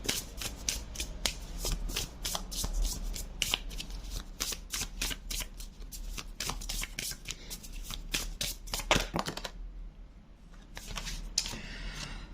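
Tarot deck being shuffled by hand up close, rapid riffling card flutters in repeated bursts with brief pauses and a short quiet gap near the end, no talking.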